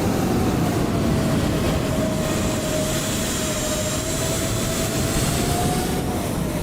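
Airbus A300-600 engines roar steadily in reverse thrust in a flight simulator, a loud continuous rumble with a sustained turbine whine that dips slightly toward the end.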